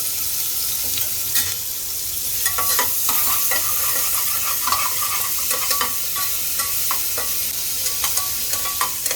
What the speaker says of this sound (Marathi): मी फोडणीसाठी कांदा टाकते